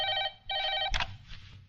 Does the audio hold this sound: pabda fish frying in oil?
no